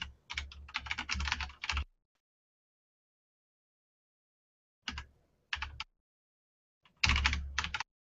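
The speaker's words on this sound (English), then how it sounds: "I'm going to type here for a second" Typing on a computer keyboard while writing Ruby code, close and crisp, in three bursts of rapid key clicks separated by long silent pauses.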